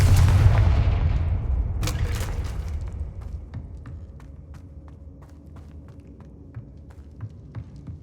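A Confringo fire spell is cast in Hogwarts Legacy. A loud, deep explosive boom rolls out and fades, a second sharp burst follows, then light taps and footsteps tick along under a low rumble.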